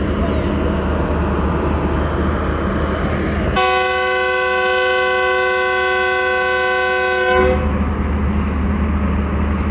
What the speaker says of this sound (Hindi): ऑन टाइम डिपार्चर हॉर्न हो गया है premium train 6 town green line का।